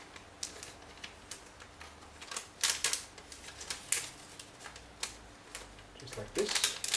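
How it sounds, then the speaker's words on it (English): Cellophane sheet peeled slowly from chocolate cups, giving crisp crinkling crackles in irregular bursts, close and fairly faint, a few sharper crackles near the end. "carefully remove that cellophane sheet"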